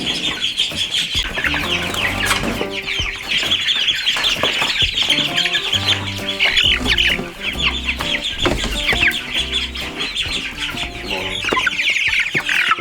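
A flock of chickens clucking and chirping continuously, close and busy, with overlapping calls throughout and no talking.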